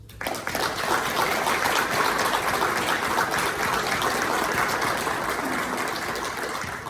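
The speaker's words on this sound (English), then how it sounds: "Well, I'll give them a round of applause." Applause erupts from an audience at a military change of responsibility ceremony, starting abruptly and holding as a dense, loud, continuous clatter of many hands with no talking.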